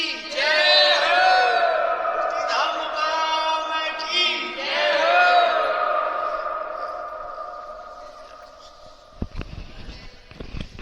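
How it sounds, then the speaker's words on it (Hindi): Pilgrims crowd the Mukam temple samadhi site of Guru Jambheshwar, a loud mass of voices rising into sustained, chant-like calls that swell and fade, with scattered knocks near the end. "यहाँ पर ये भीड़ ऐसे ही हमें देखने को मिलेगी"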